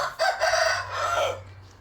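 A rooster crows once at night, a loud, close, drawn-out call that rises and then trails off before going quiet.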